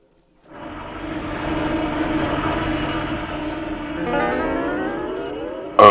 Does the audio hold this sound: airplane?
yes